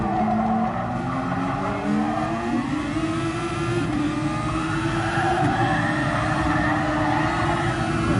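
A Super Formula race car engine heard onboard screams loud and close, holding high revs as it rises and falls through gear changes, with a constant rushing roar throughout.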